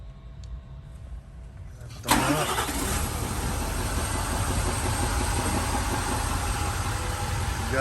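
A Nissan Titan diesel engine cranks and fires up after a fuel filter change, catching abruptly and then settling into a loud, steady, close-up idle with a gruff clatter.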